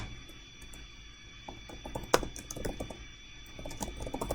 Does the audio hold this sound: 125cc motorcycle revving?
no